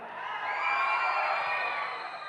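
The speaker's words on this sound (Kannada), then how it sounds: "ಈ ವಿಸಲ್ಲು ಚಪ್ಪಾಳೆ ಈ ಕೇಕೆ ಇಲ್ಲ ಅಂದರೆ ಯಾವ ಫಂಕ್ಷನ್ನೇ ಅಲ್ಲ" Crowd at a film event for Andhra King Taluka, cheering, whooping and whistling in one continuous swell that rises, holds, then eases, with no talk over it.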